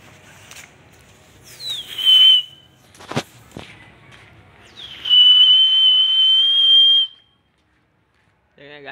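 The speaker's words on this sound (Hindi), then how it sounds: "गाइस, कितना मस्त सीटी बजाते हैं हम, आपको बजाने आता है।" A man whistles outdoors in two long shrill held notes, the second steady for about two seconds, with a sharp crack between them and near-silence after.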